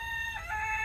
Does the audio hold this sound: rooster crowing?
yes